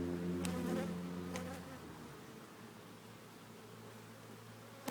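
Honeybees hum in a dense, steady buzz at an open beehive during an inspection, loud and close at first with individual bees droning past, then a softer continuous swarm hum.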